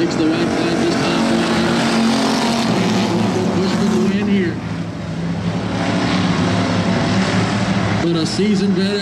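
Stock V8 race cars roar around a short oval during a heat and feature race, engines loud and close with pitch rising and falling as they pass. A commentator talks over the racing.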